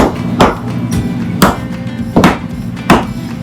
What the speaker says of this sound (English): Colton's finishing bending over nails.